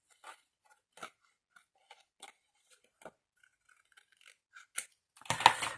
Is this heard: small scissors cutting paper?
yes